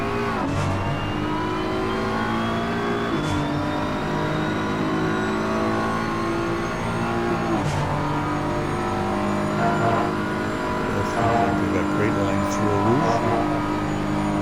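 Audi and BMW race cars powering through Eau Rouge, a loud continuous engine roar with shifting pitch as they climb and accelerate, close and unbroken throughout.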